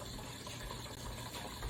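Water runs into the clean water tank of a carpet cleaner, a steady, fairly faint rushing hiss with a low gurgle throughout, no voices.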